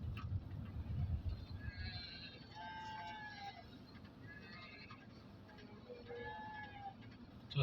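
A flock of sheep herded along a village road bleats faintly from a distance, with a few drawn-out calls rising over a low road rumble.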